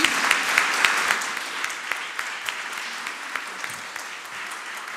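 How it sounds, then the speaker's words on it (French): Audience clapping in a hall at an anniversary event for a plant-based chemistry association, steady dense applause throughout with scattered louder claps. "On peut applaudir nos chers présidents."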